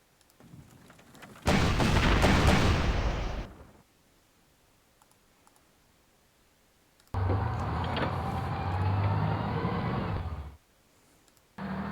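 Artillery fire in the World War II strategy game Panzer Corps: two long, loud bursts of booming, rumbling blasts, each lasting a few seconds, separated by quiet.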